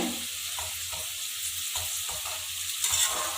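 Okra fries in oil over medium heat with a dense, steady sizzle, broken by soft periodic scrapes and clinks as the pieces are stirred in the pan.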